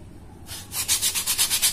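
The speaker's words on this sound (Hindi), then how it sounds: "थोड़ा इसको हम स्क्रैच करते हैं, उसके बाद दिखाते हैं" Coarse 80-grit sandpaper scrapes across a sandal surface before bonding, with a steady rhythm of rapid back-and-forth rasping strokes, close and fairly loud, with no talk.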